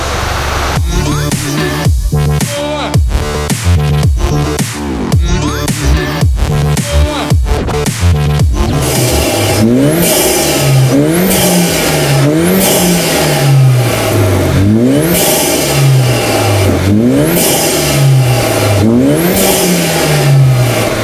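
A BMW 3 Series F30 fitted with a GruppeM carbon air intake revs hard, loud and close, first in choppy rapid blips and then in long rising and falling sweeps of the engine, with no talking.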